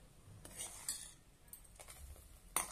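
Peanut amti made for fasting is ladled out of a cooking pot. Quiet metal scrapes and light clinks of the ladle against the pot come at irregular intervals, with a sharper clink near the end.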